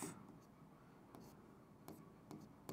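Chalk or marker scratching out chemical symbols on a board during a chemistry lesson, faint and quiet with a few brief sharper strokes standing out from the low background.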